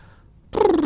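A person imitates a cat's purr during a guided relaxation exercise. After a brief near-silence a close, steady, buzzing purr starts abruptly and holds at an even level to the end.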